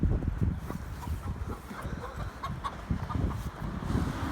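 Broody hens cluck in a new village coop, low soft repeated clucks and rustling close by, steady and continuous, with no speech.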